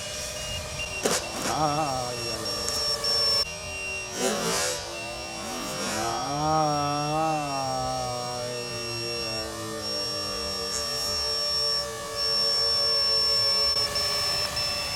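A Freewing Vulcan RC model jet whines overhead as its high electric ducted-fan pitch sweeps up and down through passes and a landing, with faint voices underneath.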